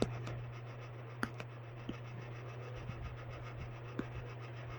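Marker or chalk writing on a board during a chemistry lesson on mass percent: faint scratchy strokes with a few brief taps, over a steady low hum, no talk.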